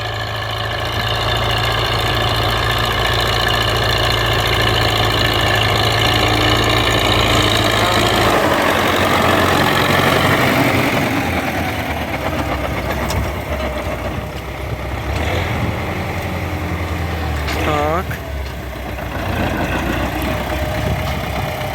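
A YuMZ-6 tractor engine, recently fitted with reworked cylinders, idles with a loud, rough, knocking exhaust rumble close by, its tone shifting partway through as the engine note settles and wavers.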